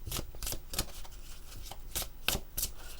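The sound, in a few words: oracle cards being shuffled for a reading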